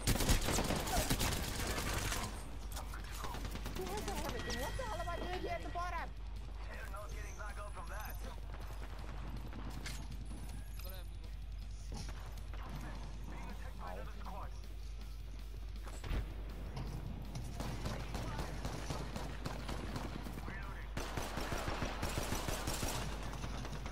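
Havoc gun fire in a video game crackles in repeated bursts amid busy game noise, with a player's voice talking over the action.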